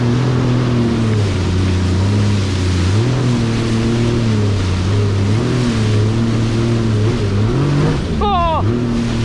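Jet ski engine droning steadily on Subic Bay, its pitch rising and falling with throttle changes, loud and close throughout, with a sharp surge and splash near the end as it hits waves.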